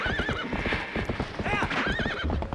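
A horse in Zelda: Twilight Princess gallops with rapid rhythmic hoofbeats and lets out a high neigh partway through, loud and close in game audio.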